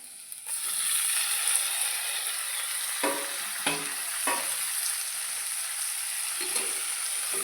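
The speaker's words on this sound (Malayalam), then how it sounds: "അതിലേക്ക് നമുക്ക് കഴുകി വൃത്തിയാക്കി വെച്ചാൽ ചെമ്മീൻ ഇട്ട് കൊടുക്കാം." Raw prawns fry with onions in a pan, producing a continuous close sizzle that starts abruptly, with several distinct spatula scrapes in the middle and no talking.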